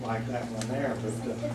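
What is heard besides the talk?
No everyday noise stands out behind the speech.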